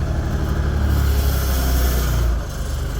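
An old Lviv-built loader's engine runs steadily nearby with a rough, low rumble that swells slightly, then eases down toward the end, loud and alone.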